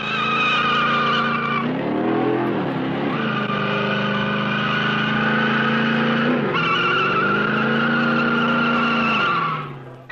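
A 1966 vehicle grinds over a rock-cycle course in a transmission and drive-component torture test, its engine droning loud and steady, with a whining pitch that dips and rises as it labors over the rocks.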